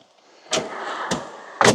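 A full-extension kitchen drawer on an overland build in a Lexus LX600 slides out with a sharp knock at the start, a rolling glide, a mid-travel clack and a firm thump as it stops.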